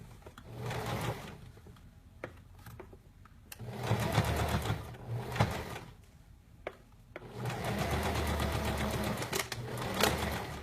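A sewing machine stitches gathered fabric within a narrow seam allowance on a sleeveless or flutter-sleeve garment, running in three sustained bursts separated by brief pauses, close and fairly loud.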